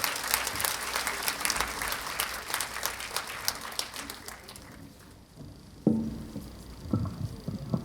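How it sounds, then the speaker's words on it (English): An audience at a university hospital graduation ceremony applauds a keynote speaker, dense clapping filling the hall for about five seconds before fading, followed by a few scattered thumps and quieter room noise. "Let's give him a round of applause, please."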